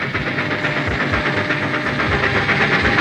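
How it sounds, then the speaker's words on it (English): A cartoon Wild West steam train rolls into the station, a loud continuous hiss and chug with rhythmic clickety-clack of wheels on rails, close and steady throughout, without talking. "The train's right on time."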